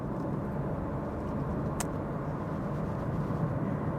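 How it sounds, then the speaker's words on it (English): A 2024 Honda HR-V EX-L subcompact SUV cruises on the highway at about 60 to 65 mph, giving a steady, constant cabin rumble of road and engine noise with one brief faint click. "show you guys what it's like to drive this subcompact at around 60 to 65 miles an hour"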